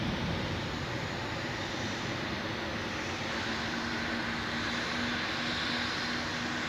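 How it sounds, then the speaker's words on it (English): Pegasus Airbus A320 airliner at Zurich Airport, a continuous loud jet engine roar with a steady whine running through it. "Pegasus A320."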